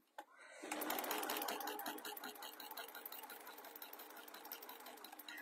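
A domestic sewing machine stitching a reversible fabric storage container, a rapid steady mechanical clatter that starts after a brief click and runs continuously, close and clear.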